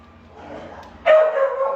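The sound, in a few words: dogs barking at a rescue site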